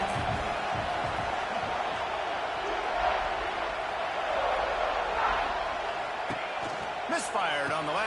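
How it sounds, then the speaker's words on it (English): A home crowd roars at a college football game, a dense, loud, sustained wash of cheering beneath continuous commentary. "how nice is it to have the home crowd going absolutely bananas?"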